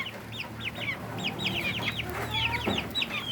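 Young hybrid chicks, a few weeks old, on a small farm give repeated high, rapid peeping calls that overlap in a busy, continuous chorus, close by, with a low background hum.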